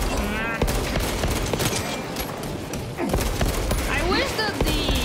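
Rapid gunfire from the Space Marine 2 video game, dense bursts and booms layered over game effects and a voice talking throughout.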